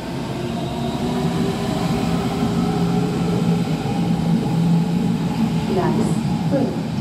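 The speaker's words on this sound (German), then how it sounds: "Caution, the train is arriving." A train pulls into platform 5 of the S-Bahn station at Berlin's BER airport, a steady loud rumble and rolling roar filling the platform with faint squeals near the end.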